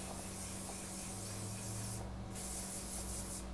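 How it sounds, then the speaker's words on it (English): Hairspray hisses from a can onto hair in a quiet room, sounding as a faint continuous spray with one short break partway through. "I use my hairspray"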